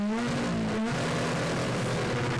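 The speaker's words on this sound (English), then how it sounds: "That car looking absolutely pinned around this rally stage." A Ford Fiesta R5-class rally car engine at Knockhill, loud and sustained at full throttle on a rally stage, with a steady droning tone, a brief dip partway through and then strong continuous power with no talking.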